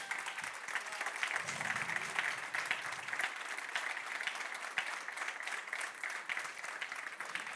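A church congregation applauds their pastor, a dense, steady wash of clapping from many hands that fills the room, heard at moderate distance with faint voices mixed in.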